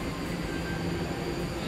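A train in Japan rumbles steadily as it runs, a dense continuous roar of wheels and carriage noise heard from close by for under two seconds, with no clear talking.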